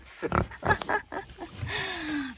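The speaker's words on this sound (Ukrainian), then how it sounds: "Свиня." A farm pig gives several short, close, snuffly grunts in quick succession, followed by a longer drawn-out tonal sound in a rural yard.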